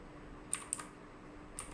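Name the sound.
typing on a computer keyboard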